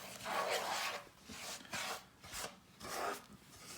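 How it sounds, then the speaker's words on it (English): A utensil scrapes and rasps through a dry mix of chopped walnuts, shredded coconut and graham wafer crumbs in a bowl for Nanaimo bars, in repeated close gritty strokes with short pauses. "we're going to add chopped walnuts, coconut, and graham wafer crumbs. And we're just going to stir that all together."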